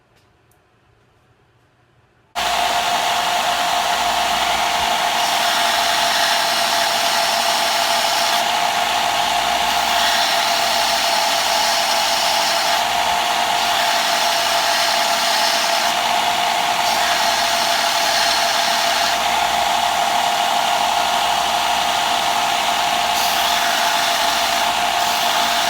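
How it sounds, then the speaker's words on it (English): A belt sander grinds a point onto a railroad spike with its head cut off, a loud, steady broadband whine that starts abruptly and runs continuously with slight fluctuations as the steel presses against the belt. "I just hit it with the belt sander real quick."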